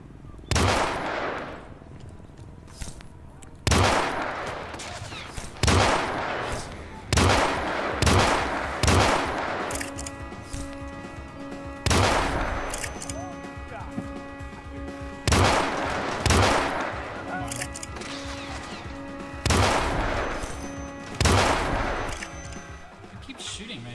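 Gunfire in the Hitman Beta game, in a pistol playthrough, comes as repeated loud bursts and single shots at irregular intervals, each with a sharp attack and a ringing tail, with a player talking in between.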